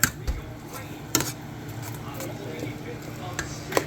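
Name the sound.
stirring heavy whipping cream into mashed potatoes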